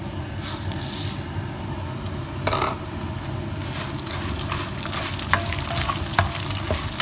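Chana dal frying in hot oil for lemon rice, with a steady loud sizzle throughout and a few spatula scrapes and stirring knocks, no talking.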